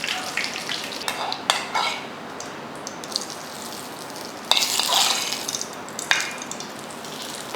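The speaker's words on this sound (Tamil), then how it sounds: "எண்ணெய் காஞ்சதுமே கடுகு உளுந்து, அவ்வளோதான். கடுகு பொரிஞ்சதுமே கருவேப்பிலையை போட்டு ஆஃப் பண்ணிக்கலாம்." Mustard seeds, urad dal and curry leaves sizzle and crackle in hot oil for a South Indian chutney tempering, with sharp spluttering bursts and occasional stirring clatter close by.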